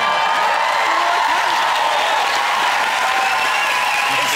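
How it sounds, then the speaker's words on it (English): A television studio audience claps and cheers continuously, a dense roar of applause filling the room from start to finish with a voice faintly underneath. "It's no good cheering"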